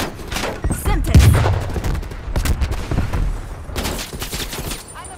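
Rapid gunfire in Call of Duty: Black Ops Cold War, loud bursts of shots and booming blasts crackling in uneven clusters, with shouted voices mixed in.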